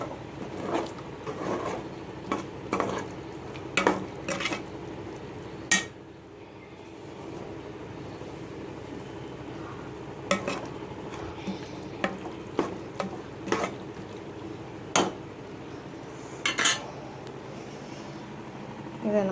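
Mutton is stirred in a pot for Madurai biryani, a low steady sizzle beneath repeated scraping and clinking of a spoon against the metal over about twenty seconds.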